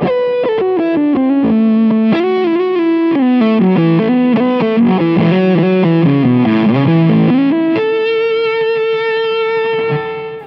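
Electric guitar played continuously, a run of notes and chords with a thin, plain tone at first, then sustained distorted, effects-heavy tone after an amp-style plugin switches on partway through; loud and alone, no talking.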